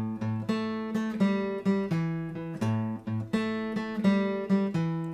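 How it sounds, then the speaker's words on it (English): Short blues guitar lick in a shuffle feel, a few notes moving up and down in long-short swung pairs, played alone and close with clear sustained tones. "Okay, so this little lick is gonna sound like this."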